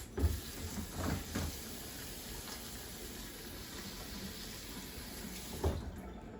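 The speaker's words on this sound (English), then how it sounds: "Wash your hands." Running tap water splashes steadily at moderate distance while hands are washed in a kitchen sink, with a couple of soft knocks near the start and end.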